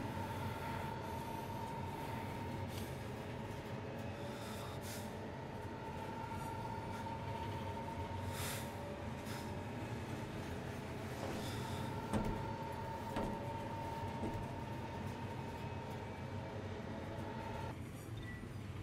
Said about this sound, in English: Noctis is free to roam about the train until it pulls into station.